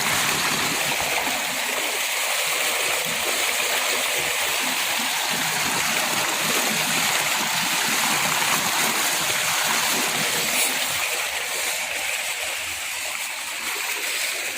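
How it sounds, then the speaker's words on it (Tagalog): Water gushes continuously from the PVC pipe of a solar-powered pump on a farm, a loud, close, steady rushing and splashing stream with no talk. "Puntakan mo yung tubig na yan na napoproduce ng power ng solar."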